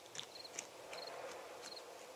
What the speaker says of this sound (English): Does the crickets sound like they're chirping faster than they normally do?